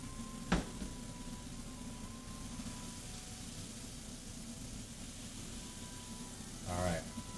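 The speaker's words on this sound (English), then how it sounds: "Do you guys want to listen to some sizzle?" Steady crackling sizzle of burger patties frying in a hot pan, a constant close hiss with a couple of brief clanks.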